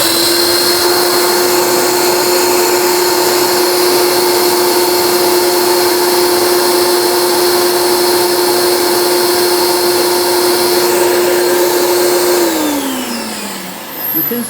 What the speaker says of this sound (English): noise from the carpet cleaner is about 92 dBSPL, which is above 85